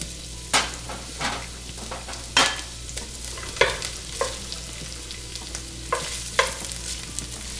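Large sliced onions sauté in extra virgin olive oil in a pan. A soft steady sizzle runs beneath repeated sharp scrapes and knocks of a spoon stirring, spaced about a second apart, close and with no voices.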